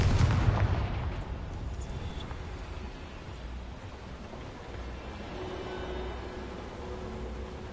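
A Confringo spell blast in the video game Hogwarts Legacy, a single booming burst at the start that fades into a low, rumbling wash with no talking.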